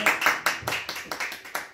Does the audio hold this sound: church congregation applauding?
yes